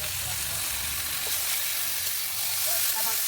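Taro leaves hit hot oil already browned with onion, bay leaf and garlic, giving a loud, continuous close-up sizzle and crackle with a few brief spits over it.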